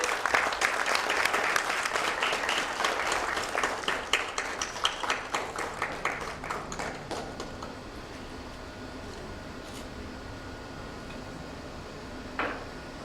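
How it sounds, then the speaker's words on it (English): Applause from the audience at a hospital launch event starts loud and busy, then tapers into scattered claps and fades to room quiet after about eight seconds, with a brief knock near the end. "Let's have a round of applause again."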